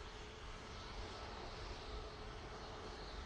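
Steady, broadband roar of an airliner's engines at Manchester Airport, loud and constant throughout with no voices, like a plane powering along the runway at close range.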